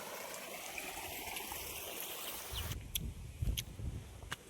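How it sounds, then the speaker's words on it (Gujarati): Water gushing from a farm pump motor's outlet at a farm, a steady close rushing flow that shifts into lower splashing and gurgling with a few sharp drips and knocks in the later half. "હજી પાણી ચાલુ છે ઓલી બીજી મોટર નું પાણી આવે છે"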